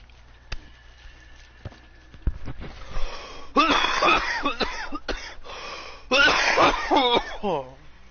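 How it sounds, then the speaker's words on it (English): A man coughs and clears his throat indoors, starting with a few light sounds and building into two harsh, raspy bouts of hacking coughs, close to the microphone. "Had a cough out."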